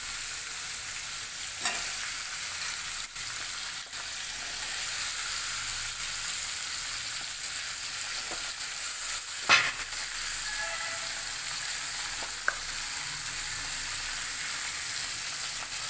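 Potatoes and green peas with fried onion, bay leaf and green chili sizzle in a hot wok, a steady bright crackling hiss broken by a few scraping stirs of the spatula, close and continuous without talk.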